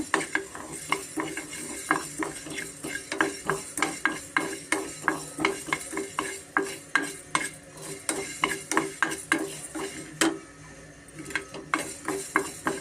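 Coriander seeds roast in a pan on medium flame while a spoon stirs them steadily, giving a regular series of close scraping clinks over a light dry sizzle.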